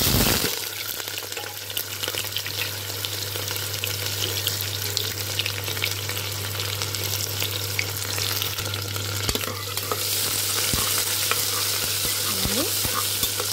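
Onions and green chilies sizzle in hot oil in a pan as a tempering for a potato and green chana curry, a continuous close, even frying hiss with occasional stirring scrapes and no talk.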